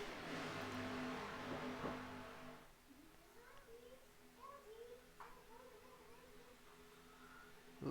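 Race car engines droning in a virtual ARCA stock car race at Daytona, a loud blurred roar at first that drops to a quieter steady hum with faint ticking, under continuous commentary.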